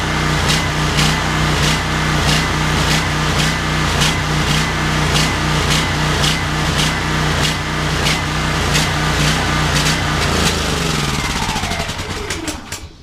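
A Smarter Tools STGP-3500EB 3500-watt portable generator runs loud and close with a steady droning engine and rhythmic pulsing, then winds down and cuts out near the end.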